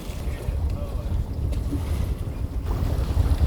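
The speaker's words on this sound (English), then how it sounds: "We're about to get waked out by this ferry." Sailboat rocking in the wake of a passing ferry, with wind buffeting the microphone and waves sloshing against the hull in a steady, loud wash.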